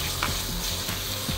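Tomato sauce sizzling and frying in a hot pan with garlic, a steady close crackle and hiss, with faint stirring scrapes now and then.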